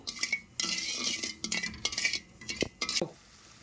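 Sugar dissolving in water in a pan, stirred with a spoon for an orange-peel chocolate sweet: repeated scraping and light clinks of metal on the pan in short bursts, close and fairly loud, with no talking.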